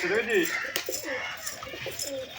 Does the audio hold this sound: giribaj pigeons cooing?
yes